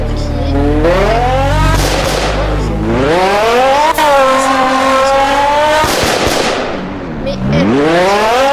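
A car engine in the Roblox mechanic game revs loudly and up close, rising and falling in pitch across several long sweeps with a few sharp pops, running continuously throughout.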